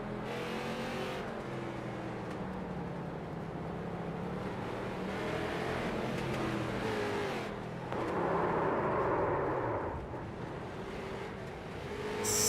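Race cars roar around a figure 8 track during a long finale event, engines droning and revving continuously with surges as cars pass and tangle in wrecks, a dense loud motor wash throughout.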